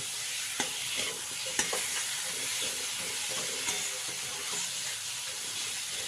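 Potatoes and spice paste fry together in a pan, giving a steady, dense sizzle with occasional scrapes and stirring knocks close by, no talking.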